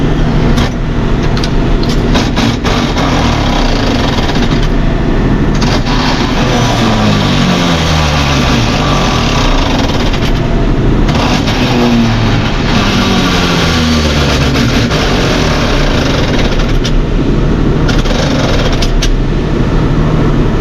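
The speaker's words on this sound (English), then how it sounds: "that's what's so time consuming with bush hogging, this tractor is shifting gears." Tractor bush hogging a field, shifting gears, with a continuous heavy engine drone and rumble, pitch rising and falling as it works, loud and close for the whole stretch without talk.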